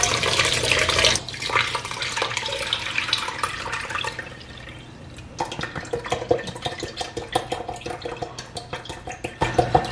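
Coconut milk pours and splashes steadily through a sieve, then thins into irregular trickles and drips with soft clinks, close by.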